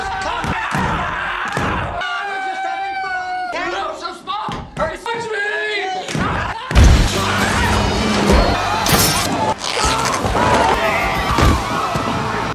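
An acrylic glass box pounded repeatedly from inside until it breaks: loud irregular thumps and bangs, then a harsh crash and continued clattering, with voices and crowd noise mixed through.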